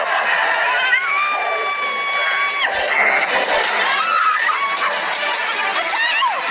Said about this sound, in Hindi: गौशाला के बाहर लोगों की भीड़ जमा थी।